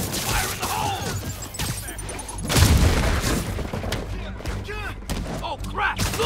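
A thrown explosive blows up in the Spider-Man video game, a loud low boom bursting out mid-clip over a busy wash of game noise and crashing debris, with voices calling out around it.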